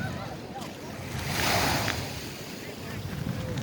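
Ocean waves wash in at Dolomite Beach on Manila Bay, a continuous surf roar swelling midway, with heavy wind buffeting and faint voices in the background.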